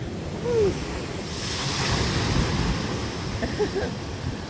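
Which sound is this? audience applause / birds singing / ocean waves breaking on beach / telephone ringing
ocean waves breaking on beach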